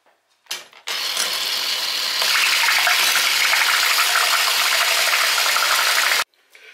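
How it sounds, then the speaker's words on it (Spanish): Whipping cream beaten in a bowl by an electric mixer, a loud steady whirring drone that starts abruptly, rises slightly after a couple of seconds and cuts off sharply near the end, with no talking. "En este bol he puesto la nata de montar y ahora vamos a empezar a batirla."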